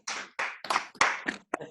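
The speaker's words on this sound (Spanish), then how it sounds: "Un aplauso como siempre." A handful of people clap together at the close of a talk, with about seven quick, separate bursts of applause over less than two seconds.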